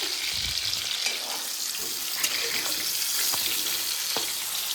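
Stuffed brinjals fry in hot oil in a kadhai, a steady close sizzle and crackle with occasional clinks and stirring sounds throughout.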